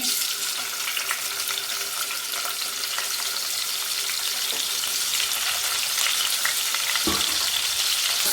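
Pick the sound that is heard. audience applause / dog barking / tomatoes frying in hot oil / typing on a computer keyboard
tomatoes frying in hot oil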